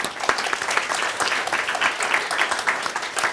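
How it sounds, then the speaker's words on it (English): An audience gives sustained applause for four presidential candidates at a public face-to-face event. Dense, even clapping runs close and loud throughout, with no talk over it. "Please join me in giving them a big round of applause."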